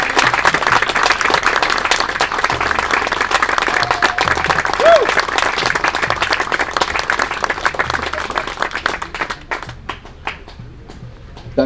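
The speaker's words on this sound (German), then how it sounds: "diesen riesen Applaus hier" Steady, loud applause from an audience at a sports championship prize ceremony, continuous clapping for over ten seconds that gradually thins toward the end, with a few voices murmuring underneath.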